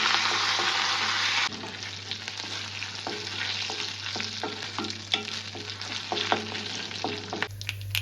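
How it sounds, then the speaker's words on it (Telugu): Curry leaves in hot oil give a sharp burst of sizzling at first, then a softer crackle with scattered stirring clicks and scrapes, close and fairly quiet, with no speech. "వేడి నూనెలో కరివేపాకు వేసుకుంటే ఫ్లేవర్ బయటకు వస్తుందండి"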